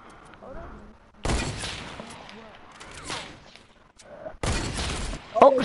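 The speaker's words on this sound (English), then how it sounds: "Oh, stop using dual cannons, Oda." Gunfire from dual cannons in a shooter video game, heard as several loud sustained bursts of rapid shots separated by pauses, with people talking in between.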